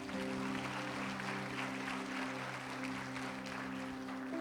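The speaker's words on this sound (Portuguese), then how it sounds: "Dê um aplauso para o Senhor" Congregation clapping during a church worship service, a steady sustained wash of applause over a held musical tone, with no voices clearly on top.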